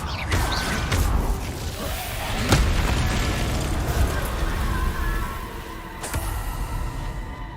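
Confringo blasting-spell explosions in Hogwarts Legacy: two sharp, booming bursts a few seconds apart, set over a rumbling, mechanical game background.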